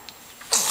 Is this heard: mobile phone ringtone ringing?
no